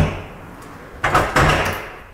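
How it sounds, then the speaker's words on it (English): A window in an abandoned 1934 house is opened, giving a loud scraping, rumbling slide with a couple of knocks, close by. "It's a window. Pretty nice. I like how it opens up this much."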